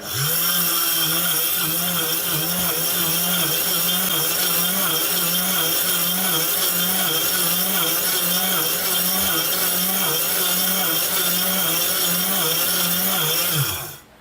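An electric mixer grinder runs steadily and loudly for the whole stretch, its motor holding a constant whine with a slight cyclic wobble before cutting off at the very end; no voices.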